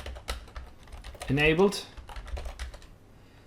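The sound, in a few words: typing on a computer keyboard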